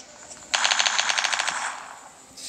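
Rapid automatic gunfire in the Free Fire mobile game, a single dense burst lasting over a second, loud and close, with no talking over it.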